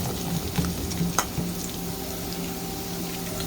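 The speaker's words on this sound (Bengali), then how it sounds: "এখন কাঁচা মরিচ আছে একটু ভাজবো।" Green chillies fry with onion in a pan for masoor dal with potato, a steady close sizzle with a few stirring clicks, no one speaking.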